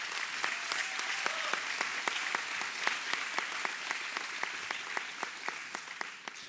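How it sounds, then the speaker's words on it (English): Audience at an awards gala claps for the night's nominees, a scattered, crisp run of individual hand claps in a room, fairly quiet and steady without talk over it. "So if we could just give a round of applause to everyone here who was nominated tonight"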